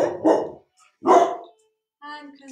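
A little dog barks in three separate bursts across a couple of seconds, with short pauses between, the last one higher and more whining, close and fairly loud with no talk.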